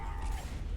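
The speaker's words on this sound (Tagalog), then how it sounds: "Reloading. Reloading." Weapon reloading in Left 4 Dead 2 on the Cold Stream Memorial Bridge level: a brief mechanical clack and creak of a gun being reloaded, close and moderately loud, with no talk.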